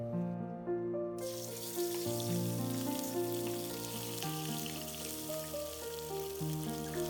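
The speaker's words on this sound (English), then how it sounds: "Heat up some oil until hot and add the fish in." Stuffed chilli fish fries in hot oil in a wok, a continuous bright sizzle that bursts in loudly after a brief quieter opening and holds steady throughout, with a sustained tonal hum beneath.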